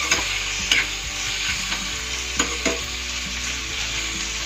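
Tomatoes and onions sizzle and fry in a pan on medium flame, a loud continuous hiss broken by several sharp scraping stirs of a spatula against the pan, up close with no talking.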